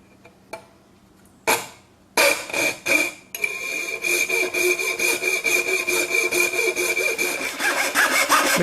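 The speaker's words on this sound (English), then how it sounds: "To cut the copper-clad material, we're going to use a coping saw" Jeweler's coping saw with a very fine blade cutting copper-clad board: a few scattered taps and scrapes at first, then close, steady rhythmic back-and-forth rasping strokes that continue to the end.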